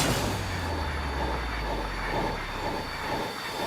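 A subway train rumbles along with a low, heavy roar and rattling wheels, a high squeal running through the steady noise, close and continuous with no talk.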